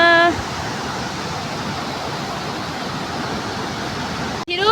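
A hill river or stream rushes steadily with broadband noise, close by and continuous, with no voices. A brief break comes near the end.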